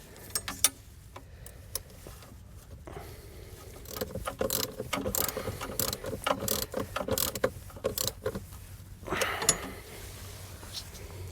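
A ratchet tightens the nut back onto a battery terminal stud over a ring terminal on a 2015 Ford Transit, giving bursts of close, clicking ratcheting and metallic handling with no talk.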